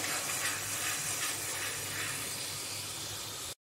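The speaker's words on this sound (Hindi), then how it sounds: "मसाले को अच्छे से भून लेंगे, अदरक, लहसुन, प्याज, टमाटर और हरी मिर्च को।" Ginger, garlic, onion, tomato and green chili frying in a pan, a steady sizzling hiss that holds at an even level for several seconds and then cuts off abruptly.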